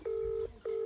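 A telephone line sounds two steady beeps, a long electronic tone followed by a second after a short gap, as a call is being placed.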